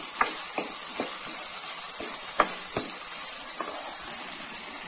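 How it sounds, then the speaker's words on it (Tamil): Tomatoes sautéing with salt in a pan for curry leaves curry, a steady soft sizzle broken by repeated scraping stirs of a spatula, heard close with no talking. "இப்ப இதுல நான் கொஞ்சமா உப்பு சேர்த்து நல்லா வதக்க போறேன்."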